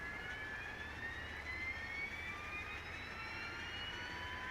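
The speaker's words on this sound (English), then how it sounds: "So we're just going to come over here and get the APU fired up here." A Boeing 727 APU spools up in a flight simulator, a steady faint whine with rising tones over a constant engine roar. There is no speech.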